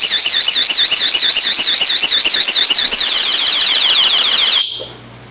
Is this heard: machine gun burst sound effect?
no